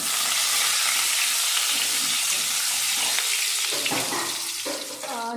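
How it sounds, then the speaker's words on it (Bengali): New-potato shukto vegetables sizzle and fry steadily in a pan, with scraping stirs of a spoon throughout and a brief watery clatter near the end; no voices. "আর এই যে শুক্তো রান্না করছি।"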